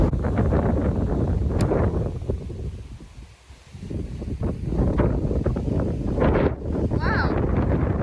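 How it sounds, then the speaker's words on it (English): Gusty wind buffets the microphone on a golf course in blustery conditions, a loud steady roar that dips briefly midway and swells again, with a faint chirp near the end. "The wind's drawing it around."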